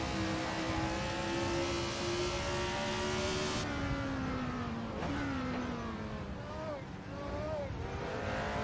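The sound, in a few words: 1967 F1 race car engine in the video game Assetto Corsa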